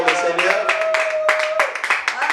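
A church congregation claps to acclaim the Lord, sharp rhythmic hand claps in a steady beat under singing or chanting voices, loud and close throughout.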